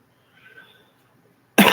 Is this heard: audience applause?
no